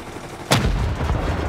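A single loud, sharp blast from an HMLMG turret in a survival video game, with a sustained rumbling tail trailing after the shot; no talking.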